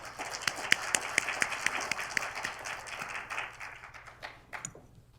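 An audience applauds at the 60th anniversary ceremony of the Korean women journalists' association, dense rapid clapping from a crowd that thins and fades out over the last second.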